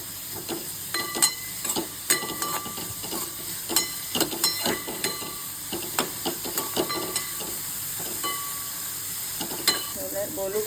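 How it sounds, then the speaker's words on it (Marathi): Tomato and cashews roasting in a pan alongside browning onion, with a steady sizzle broken by frequent scraping stir strokes and light clinks, fairly close and alone without talk. "त्याच्यामध्ये टोमॅटो पण टाकायचा आहे तो पण भाजायचा आणि ते काजू आहेत ते पण थोडे परतून घ्यायचे"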